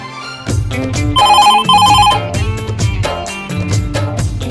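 Mobile phone ringing out on an outgoing call, with a loud melodic ringtone of bright repeating tones over a beat, played continuously and close for a few seconds.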